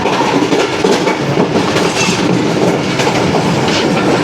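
The Pak Business Express rolls along the rails between Rohri and Karachi near Hyderabad, with a loud, close, continuous rumble and rhythmic clickety-clack of the wheels and no voices.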